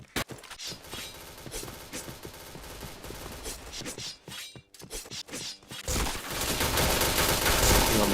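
Rapid bursts of gunfire from the shooter video game Point Blank, with loud, dense, overlapping shots and impacts throughout. The firing swells into a heavy, continuous barrage near the end, with a faint voice in the game mix.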